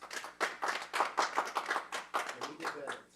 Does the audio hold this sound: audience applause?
yes